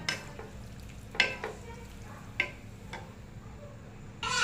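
Spicy cauliflower curry (gobhi sabzi) with a light gravy simmers in a pan on a gas stove, giving a faint steady sizzle broken by a few sharp clinks of a spoon stirring.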